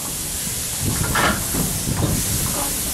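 Weiser Railroad steam train at Greenfield Village releasing broad, steady steam hiss, with a brief louder surge partway through and a low mechanical rumble beneath.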